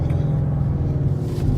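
A 2015 Mustang 5.0 with Corsa Extreme exhaust rumbles deeply as it downshifts, a loud, low, throaty burble heard from close range with no voices.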